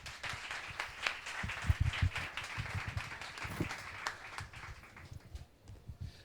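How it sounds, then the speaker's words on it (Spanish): A book-launch audience gives a short round of scattered, uneven clapping that swells at about two seconds and fades out, with some low room noise beneath; no speech is heard. "yo lo único que les voy a pedir es que les demos un aplauso para empezar"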